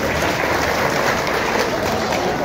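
An audience applauding at the inauguration of a covered fruit market, a dense continuous patter of many hands clapping at steady volume throughout.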